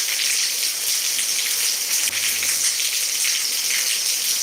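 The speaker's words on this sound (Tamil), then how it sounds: "இப்போ திடீர்னு மழை வந்துருச்சு" Steady rain hissing down, a dense even patter with no pauses, moderately loud and close, with a brief low thump partway through.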